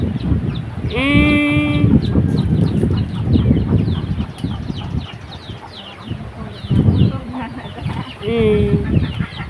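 Chickens cluck and squawk continuously nearby, with a few drawn-out calls rising above the chatter and a voice speaking faintly underneath.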